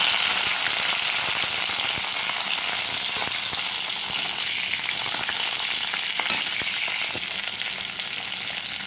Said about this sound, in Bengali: ওই তেলে আমি উচ্ছেগুলো